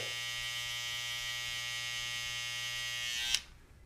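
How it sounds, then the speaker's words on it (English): An electric hair trimmer buzzes steadily and close up while cutting a beard fade, holding an even drone for about three seconds before cutting off abruptly. "now I can use the trimmer, use the corners, and flick out right there"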